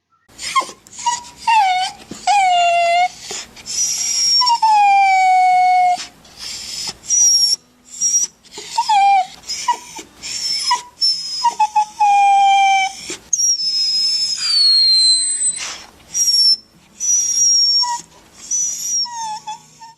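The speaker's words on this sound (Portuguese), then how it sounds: "Cachorro chorando de tristeza." A sad dog cries in drawn-out, falling whines and thin howls that rise into squeaky, whistle-like tones. The calls repeat in bursts with brief gaps, loud and close with no voices.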